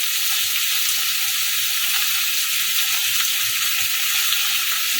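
Pointed gourd (potol) slices frying with salt in a pan for a garlicky Bengali dish, giving a steady, loud, dense sizzle that runs unbroken from start to finish with no voices over it.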